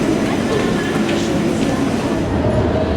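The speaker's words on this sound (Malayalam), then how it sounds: "വിയന്നയുടെ മന്ദിരങ്ങൾക്കും ചത്തുരങ്ങൾക്കും അടിയിലൂടെയാണ് ട്രെയിൻ കടന്നു പോകുന്നത്" A train rumbles through the underground levels of Vienna Westbahnhof station, a steady rolling roar with faint metallic rattles and squeals, heard close and continuous beneath a murmur of voices.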